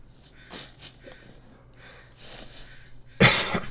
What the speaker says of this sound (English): Hopefully I didn't cough too loudly in everybody's ears there.